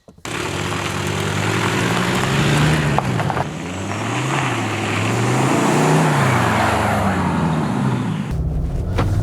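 A 2019 Skoda Kodiaq with a 2.0 engine heard from inside while driving, the engine note rising and falling through gear changes over steady road and wind noise, with no talking.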